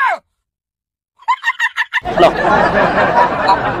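A rooster crows briefly, then gives a quick run of sharp clucks before a noisy, busy public setting takes over.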